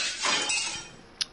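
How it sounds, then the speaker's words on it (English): A glass object shatters with a sharp crash and a spray of tinkling shards in a holiday dating-sim video game, followed by one bright clink at the end, with no voices. "Some glass object splinters with a monumental crash behind us as we make for the exit."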